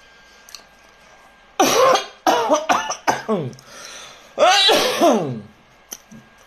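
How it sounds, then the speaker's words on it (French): A series of harsh, bursting coughs, with several quick hacks clustered together and a final longer fit, fairly close and loud, with quiet gaps between. "Tu as envie de tousser."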